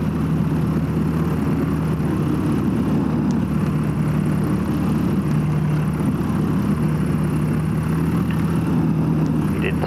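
Falcon motor glider taxiing on a hard runway before departure, its engine giving a loud, steady droning hum with a constant tone, continuous and close throughout.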